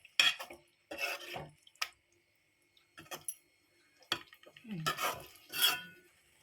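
A spoon stirs egg curry with salt, chili powder and masala in a metal pan, making intermittent scraping clinks and clatters in short bursts with quiet gaps between.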